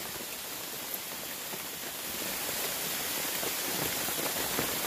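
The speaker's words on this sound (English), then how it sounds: "It's raining." Steady rain falls at a Labor Day weekend campsite, pattering on a tipi tent in a dense, continuous hiss that grows slightly heavier partway through, close and unbroken with no voices.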